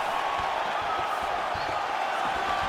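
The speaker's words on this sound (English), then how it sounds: "And you hear the crowd react every time they come together" Crowd noise in the UFC 4 fighting game swells during a bout between Charles Oliveira and Jorge Masvidal, a steady arena roar with faint thuds of strikes running through it at moderate volume.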